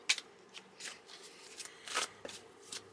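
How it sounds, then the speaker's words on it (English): Tarot cards being shuffled by hand, close and quiet. Crisp riffling bursts come at irregular intervals over a near-silent room. "I'm going to shuffle the cards"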